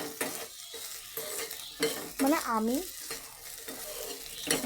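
Food sizzling as it fries in a pan at home, with repeated scraping strokes of a spatula stirring it, close and fairly quiet; someone briefly speaks over the cooking.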